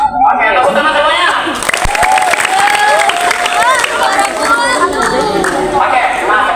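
A crowd of schoolchildren on a museum visit at the Monas national monument applauds loudly, dense clapping mixed with cheering and excited chatter, while an adult voice talks over it.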